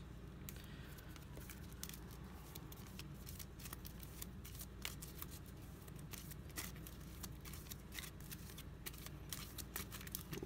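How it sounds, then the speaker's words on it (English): Villainous game cards riffled and shuffled by hand in a steady run of crisp, close flutters and snaps lasting several seconds, with no voices over them. "I'm going to shuffle this now."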